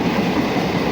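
A train rumbles past close by, a loud steady rolling roar with faint rhythmic rail clatter filling the whole moment, no voices over it.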